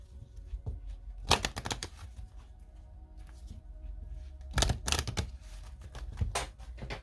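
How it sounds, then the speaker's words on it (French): Tarot cards shuffled by hand at close range: two quiet bursts of riffling, flapping card noise separated by soft handling sounds, with no talking. "Je vais bien les mélanger"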